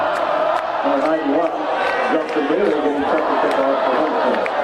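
Steady crowd murmur fills a high school football stadium on a Friday night before kickoff, Homestead at Northrop, with overlapping chatter and occasional shouts, dense and continuous throughout.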